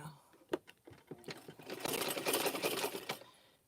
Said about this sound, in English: there's a couple things I don't care for this sewing machine